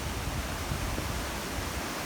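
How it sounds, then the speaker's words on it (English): Steady broadband rush of fast-flowing water by a country house hotel, a full, even roar with no breaks, close and continuous, with no voices. "can you hear the sound of all that water rushing past?"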